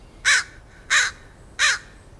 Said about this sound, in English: Crows caw,